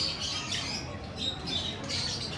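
Parrots in zoo cages, an aviary holding over a thousand birds, give off a dense, continuous chorus of shrill squawks and chirps that overlap throughout without a break.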